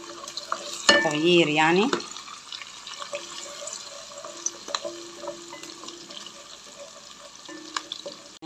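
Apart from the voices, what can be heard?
onion and garlic frying in oil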